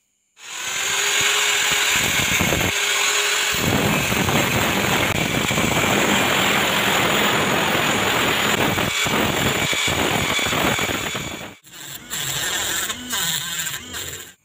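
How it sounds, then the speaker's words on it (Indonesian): A homemade grinder built from a salvaged dynamo cuts a steel plate into a circle with a loud, steady, harsh whine that runs almost nonstop, then breaks off briefly and restarts in shorter bursts. "Nah, kita pasang besi platnya lalu kita potong membentuk melingkar."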